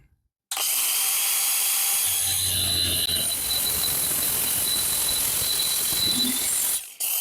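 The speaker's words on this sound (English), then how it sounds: "I'll cut on the outside of the tape with the grinder." Angle grinder cutting steel tubing for a chain link fence gate frame, a loud continuous whine that starts abruptly and runs steadily for several seconds before cutting off, with no talking.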